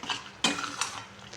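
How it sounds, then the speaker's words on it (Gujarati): Flour roasts in ghee in a pan over a low flame while a spoon stirs it, giving soft scraping strokes and a couple of sharper clinks against the pan, quiet and close. "લોટને આપણે 10 મિનિટ ધીમા ગેસે હલાવતા રહીશું"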